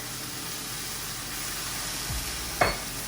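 Water hits a hot pan of greens and garlic and releases a steady steaming hiss, with a couple of soft stirring clunks near the end.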